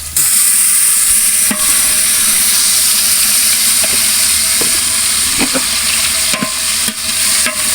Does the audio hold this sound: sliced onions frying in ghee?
yes